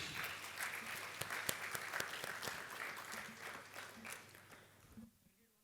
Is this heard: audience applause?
yes